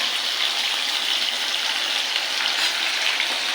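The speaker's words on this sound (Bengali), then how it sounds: "এবার আলুটাকে ভাজতে বসিয়ে দিলাম আলুটা লাল করে ভেজে নেবো" Potato fries in hot oil alongside ginger and green chili, giving off a loud, even, continuous sizzle with no pauses and no voices.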